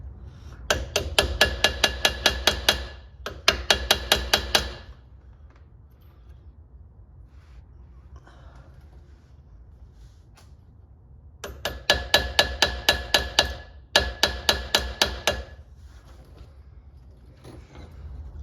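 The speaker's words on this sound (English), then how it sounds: "go ahead and just hammer them all the way back in" Bursts of rapid metallic hammering as Brembo four-piston brake caliper pistons are hammered back, several quick strikes in each of four clusters, with quieter pauses between them; no talking.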